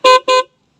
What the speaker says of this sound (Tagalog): pinag-combine ko lang ng stock at saka Pia horn